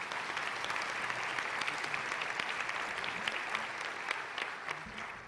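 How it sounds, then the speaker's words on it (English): An audience applauds after a report at a gathering, a long, even spatter of many hands heard from some distance, steady and moderately quiet throughout. "I don't remember so much clapping after reports in past events"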